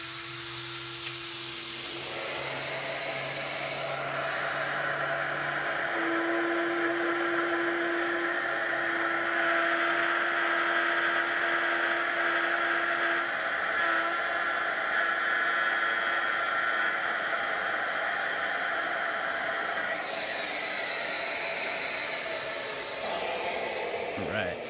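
A keyhole-slot cutting machine runs for about twenty seconds, a loud steady whining drone that spins up, holds a constant high pitch with a faint tonal hum, then winds down at the end.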